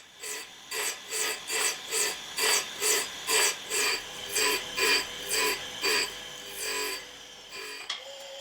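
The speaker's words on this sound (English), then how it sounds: "The surface grinder does a pretty nice job." A surface grinder passes over a steel screwdriver blank in about a dozen even, rhythmic strokes, each a close rasping grind that rises and fades before a short quieter tail.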